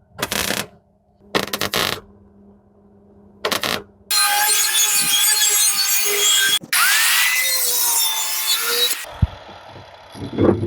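Sheet metal being cut on the bodywork of a 1989 Chevy K1500 truck: a few short bursts of a power cutting tool, then long, loud, continuous screeching cuts close up.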